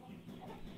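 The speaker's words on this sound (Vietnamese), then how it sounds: "Nhà toàn gà sáu ngón nhé các bạn nhé" Six-toed chickens at a Dao village home on Mau Son mountain in Lang Son, giving a few soft, quiet clucks in a brief moment.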